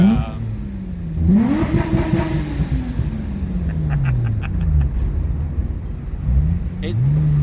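Custom H6 Subaru Impreza drift car, its engine revving in several sharp rises and falls between steadier idle-like stretches, close and fairly loud, with brief talk over it.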